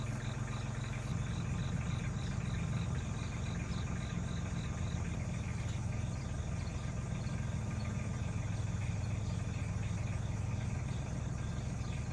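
A tractor or truck engine idles with a low, steady rumble while backing a trailer on a farm, a constant droning hum with a faint high whine, fairly quiet and unbroken.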